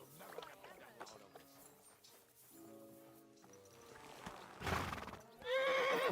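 A horse in Kingdom Come: Deliverance 2 gives a loud whinny near the end, preceded by quiet hoof clip-clops over low game music and ambience.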